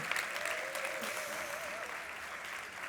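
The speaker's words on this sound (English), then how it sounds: "Please join me in giving them a round of applause." Applause from an audience at opening remarks for an event, steady and fairly faint throughout, with a voice briefly audible over the clapping.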